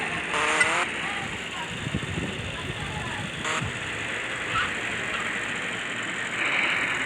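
A car drives in GTA Liberty City Stories, its engine a steady mid-level drone with occasional clicks and bumps, while a voice talks over it.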